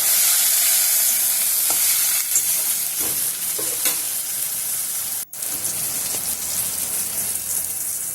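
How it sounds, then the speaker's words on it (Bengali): Chopped onion fries in hot oil for a Bengali egg curry, a loud, dense, constant sizzle like heavy rain, broken by scraping stirs and a single momentary dropout. "এবারে তেলের সঙ্গে পেঁয়াজ কুচিটা ভালো করে নেড়ে চেড়ে মিশিয়ে নেব।"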